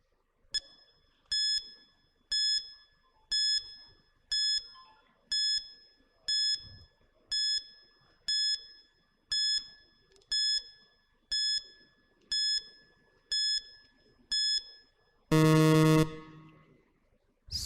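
A quiz countdown timer ticks with a regular series of bright electronic beeps, about one per second, then ends in a loud, sustained buzzing alarm tone, alone and close.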